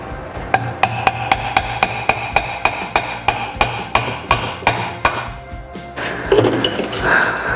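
Loud, evenly paced hammer blows drive a part into a Ford 9 inch rear axle assembly, about fourteen sharp metallic strikes in a row followed by handling noise and clatter.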